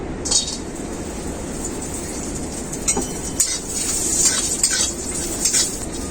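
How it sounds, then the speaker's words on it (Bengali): Cashews and raisins fry in hot ghee in a wok, a steady crackling sizzle with scattered sharp pops and bright spitting bursts, close and even throughout, with no voices. "ঘিয়ের মধ্যে আমি কাজু আর কিশমিশ ভেজে নেব"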